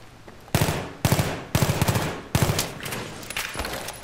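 Bursts of gunfire in Battlefield 3 during a Gun Master match, four loud sharp volleys of rapid shots about half a second apart, followed by quieter scattered shots.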